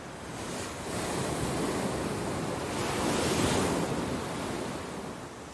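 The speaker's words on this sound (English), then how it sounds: "so wild and windy, with these crashing waves all around" Waves crash continuously around a wild, windy cliff-top settlement in an island archipelago, a dense roar of surf mixed with gusting wind noise that rises and falls, with no voices.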